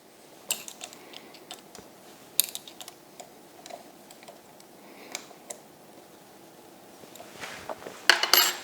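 A Multifix tool post on an Emco Maximat 7 lathe being tightened: a scattering of faint metallic clicks and small clinks, ending in a louder cluster of taps and rattles.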